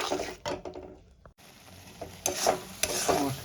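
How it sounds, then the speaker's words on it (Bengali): Tomato paste cooks down in a pan with a stirring spoon: scrapes and a brief lull, then a louder, steady sizzle with clicking strokes, close by and without talking. "টমেটোর পেস্টটা দিয়ে আমি ভালো করে কষিয়ে নেব"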